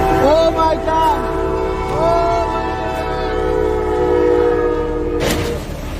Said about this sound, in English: A collision between a train and a car transport truck carrying many luxury cars